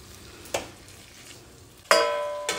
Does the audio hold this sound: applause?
no